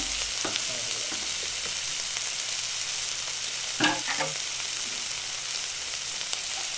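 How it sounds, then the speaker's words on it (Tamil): Vegetables sautéing in a hot pan with soy sauce and green chilli sauce for a chicken spring roll filling, a steady low sizzle with occasional stirring scrapes and one louder clatter near the middle. "இப்போ சோயா சாஸ், கிரீன் சில்லி சாஸுங்க, இதையும் போட்டு 2 நிமிஷம் நல்லா வதக்குங்க."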